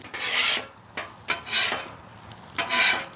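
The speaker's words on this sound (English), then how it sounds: "Putting down the onions. And I want them to saute a little bit." Onions sauté on a flat-top griddle with three bursts of loud rasping scrapes from a spatula tossing them, over a low background sizzle.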